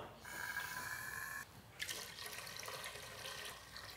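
Water, one liter for a vinegar brine, pours steadily into a cooking container, pausing briefly before a splashier, fuller stream resumes, fairly quiet and close.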